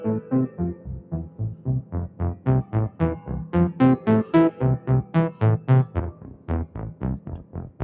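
Rapid notes from a Moog Grandmother analog synthesizer run up and down in a steady pulsing arpeggio, each note short and evenly spaced, bright and clear with no voices.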